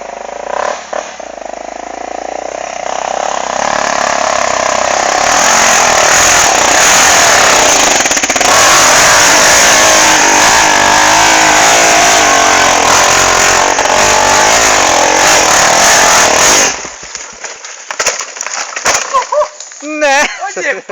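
A trail motorcycle engine on a dirt trail, loud and close, revving hard and holding a harsh, buzzing roar for about fifteen seconds before cutting off, with scattered voices afterward.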